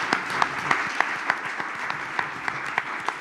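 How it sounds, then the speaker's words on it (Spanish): Warm audience applause for Emilio at a cultural gathering on Spanish exiles in Mexico, held with UNAM and the Ateneo Español: moderately loud, steady clapping with sharp individual claps standing out in a loose rhythm. "le damos un cariñoso aplauso a"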